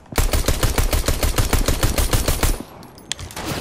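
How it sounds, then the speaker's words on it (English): Rapid video game gunfire rattles out in a steady, fast stream of shots for about two and a half seconds, then cuts off, leaving only quieter background sound. "this kid's firing at me from all directions"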